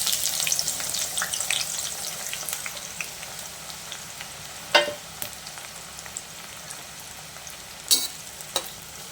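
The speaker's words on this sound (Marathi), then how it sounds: "कांदा तळून घेते." Onion frying in oil for a peanut and mixed lentil chutney, a soft, steady hiss of bubbling oil that thins out over time, punctuated by two sharper stirring clanks midway and near the end, with no one speaking.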